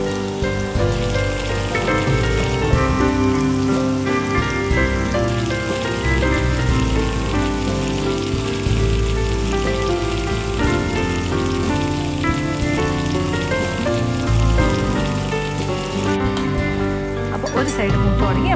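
Chicken pieces for chilli fry bubble and sizzle in hot oil, a steady, loud crackling hiss with music playing underneath.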